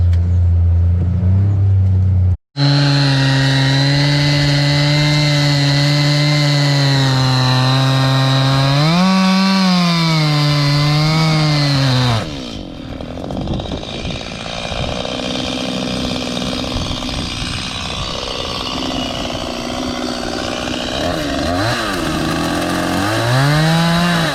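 A chainsaw cutting into tree stumps, loud and close, with its engine holding a high whine that dips and rises as the chain bites, then drops to a rougher idle-like rumble for the second half.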